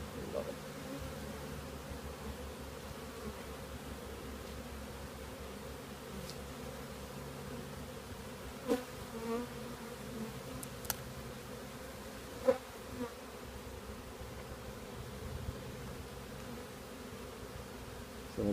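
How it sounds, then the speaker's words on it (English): Honeybees buzz around a hive entrance in a steady, low hum of many wings, faint and continuous, with a few soft clicks and brief sharper passes of individual bees nearby. "So the bees will start doing what's called an orientation scent."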